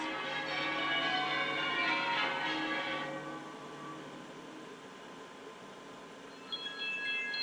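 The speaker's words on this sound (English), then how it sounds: "The bells! The bells!" Bells ring with a rich, sustained metallic tone that slowly fades, followed by a fainter higher chime near the end.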